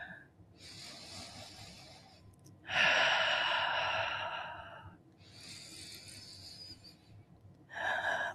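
Deep, slow breaths during a vinyasa yoga practice, three long audible exhales with hissy airflow, fairly close and clear, separated by quieter pauses, with no talking.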